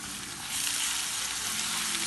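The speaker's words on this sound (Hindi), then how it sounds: "अब हम इसमें अदरक लहसुन का पेस्ट डाल देंगे।" Steady, dense sizzle of ginger garlic paste frying with lightly browned onions in a hot pan, growing louder after the first half second and continuing without talk.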